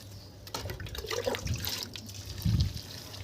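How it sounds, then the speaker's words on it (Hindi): Water poured onto ridge gourd plants in a garden, a quiet splashing trickle in a few uneven bursts, nearby and soft. "और प्रति पौधा आधा लीटर पानी मैंने इसमें देना है।"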